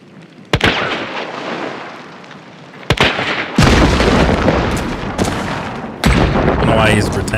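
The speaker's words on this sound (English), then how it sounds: "Shooting below my feet." Gunfire in Hunt: Showdown, with several loud, sharp shots and booming reports cracking over a continuous rumbling background, spaced a second or two apart, with some talk mixed in.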